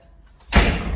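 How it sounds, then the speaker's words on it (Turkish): A door is pushed shut indoors, a single close, solid thud with a brief rattle after a quiet moment. "Şöyle kapıyı kapatın da ses gelmesin."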